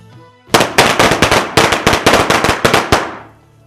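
A rapid string of loud, close firecracker bangs crackles for about two and a half seconds in uneven bursts, then stops abruptly, with no talking.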